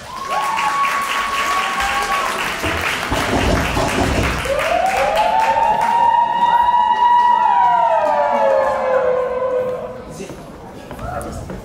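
An audience at a beauty and entrepreneurship conference applauds as a speaker comes to the podium, steady clapping throughout with a siren-like whistling tone sweeping over it in the middle, fading toward the end.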